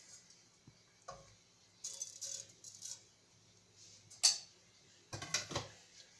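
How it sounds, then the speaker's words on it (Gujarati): Cumin seeds crackle in hot ghee and oil in a pan for a vegetable pulao, with faint scattered pops and small metallic clinks of a spoon or vessel in a quiet kitchen. "જીરું સહેજ તતડવા માંડ્યું છે."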